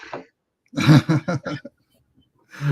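A few harsh coughs or throat-clearing bursts come in quick succession, close and loud, with short silences around them.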